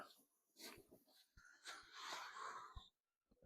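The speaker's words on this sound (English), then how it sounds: "That's my dog Hank, by the way." Hank the dog, worked up over rabbits near a chicken coop, whimpers and pants close by: breathy, wheezy whines in uneven bursts with a few soft thumps, going quiet briefly near the end.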